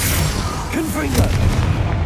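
A Confringo fire spell explodes during combat in the video game Hogwarts Legacy: a loud, dense, roaring blast that fills the whole clip, with a deep rumbling body and crackling texture layered over other game sounds.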